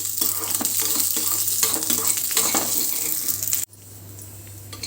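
Peanuts, green chillies, ginger and garlic sizzle steadily in hot oil in a pan, with stirring scrapes over the frying; the sizzle drops to a quieter hiss near the end.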